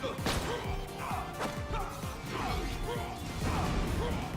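Party Line unique shotgun from Borderlands firing fireworks, a rapid run of crackling bursts, whooshes and pops repeating across the stretch, fairly close and busy, with a voice talking lightly underneath.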